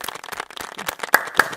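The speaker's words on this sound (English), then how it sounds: "Clap it up, folks" Scattered clapping from a small audience at a hackathon demo showcase, a handful of sharp, uneven claps with two louder close ones near the end.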